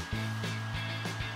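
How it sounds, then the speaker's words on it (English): A handheld hair dryer blows hot air onto a candle wrapped in a napkin, a steady close whirring hum with a constant tone, its pitch wavering slightly as the airflow shifts, with no talking. "heat up the candle with a hairdryer"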